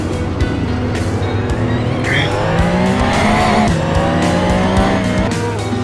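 Race car in a video game braking hard into a hairpin on the Nürburgring Nordschleife, engine roaring and downshifting with tires squealing, loud and close throughout.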